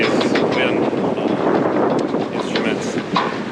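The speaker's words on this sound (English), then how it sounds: "Winds have really picked up" Strong wind gusting at 22 to 24 knots roars over a sailboat, a loud, steady rushing blast buffeting the microphone with no break.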